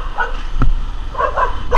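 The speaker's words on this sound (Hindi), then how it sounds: "अंदर से कुत्ता उत्ता भी है क्या" A dog barks loudly nearby in short bursts, a couple of yips and barks spaced across the moment, heard clearly over faint background noise.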